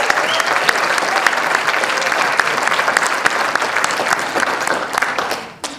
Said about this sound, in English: Please join me in congratulating them. You can now clap.